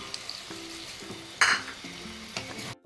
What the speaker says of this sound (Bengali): এবার দেখুন হাফ কাপ দুধ দিয়ে দিচ্ছি।